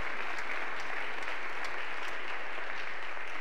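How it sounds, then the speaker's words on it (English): Congregation at a Sunday morning church service applauding to welcome a new pastor, steady dense clapping from a crowd filling the room without pause. "Let's give him a round of applause"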